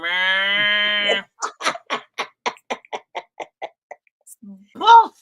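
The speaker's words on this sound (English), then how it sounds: "cow sound effect." A cow moo sound effect plays as one long, loud, harmonic low, followed by a string of short, rhythmic bursts and a final brief call, heard alone without talk.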